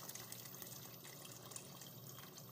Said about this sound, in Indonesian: Ini sisanya mau saya tuang airnya biar masak dulu.